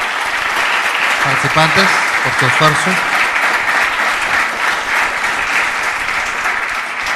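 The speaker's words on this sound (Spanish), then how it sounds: "vamos a darles un fuerte aplauso a nuestros" An audience at a mock criminal trial at a law fair gives the participants a hearty round of applause. Sustained, full clapping runs from start to finish while someone speaks briefly near the start.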